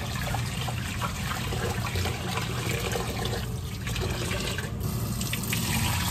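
Steady running and splashing water throughout, dense and close, as rice is rinsed in a sink with no talking.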